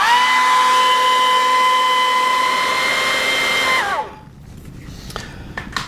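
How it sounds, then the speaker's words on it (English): A handheld hair dryer whines at a constant high pitch while heating a lawn mower wheel dust cap, then switches off and spins down, leaving a few light clicks and handling taps. "Yes, this is just a hair dryer,"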